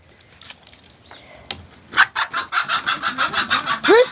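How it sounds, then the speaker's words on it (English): Chickens and a rooster in a smelly coop: scattered clucks, then a loud run of rhythmic squawking and a crow close by, with no talk over it. "Leah, Keep the rooster away from us"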